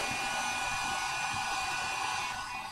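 A heat gun running on its high setting heats the end of a part for a compound bow, giving a steady, close, continuous fan-and-air roar with a faint high whine and a slight dip near the end, with no talking.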